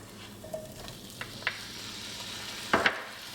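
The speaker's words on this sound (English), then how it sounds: "And we stir it." Chicken breast with broccoli and pineapple fries in a pan, making a faint, low sizzle while a utensil stirs, with a few scattered clinks and a sharp double knock near the end.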